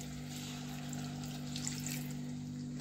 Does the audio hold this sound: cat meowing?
no